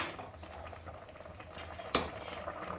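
Carrot kheer made with rice and milk bubbles in a pot on the stove, a soft, steady simmering patter up close, broken once by a brief clink.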